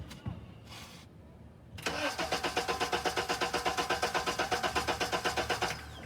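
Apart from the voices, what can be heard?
Honda engine cranking during valve adjustment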